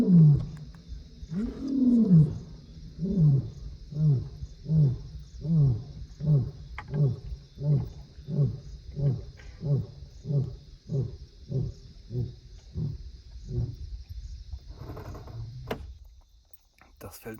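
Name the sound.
lions roaring at night near the car, Mana Pools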